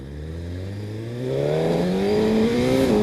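A 2018 Suzuki GSX-R1000R superbike revs up, its loud engine note climbing steadily in pitch over a few seconds, close and continuous with no talking.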